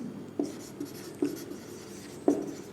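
A pen or pencil scratches and taps on paper in three or four short strokes while a Class 10 physics numerical on reflection of light is solved, each stroke near and moderately loud, with no voices.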